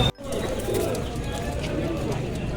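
Pigeons cooing at a busy pet market, low coos blending into steady crowd noise and voices nearby.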